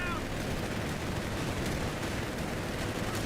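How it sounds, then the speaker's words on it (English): A dense battlefield roar from the Company of Heroes 3 video game, a grenade blast and gunfire blending into continuous loud rumble and crackle throughout, with no clear pauses. "Oh, nice nade."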